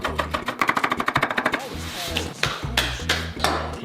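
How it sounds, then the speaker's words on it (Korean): A knife chops green onion on a cutting board for kimchi stew, a fast, even run of crisp taps followed by slower, heavier knocks, close and clear with no talking. "파도 썰어주고"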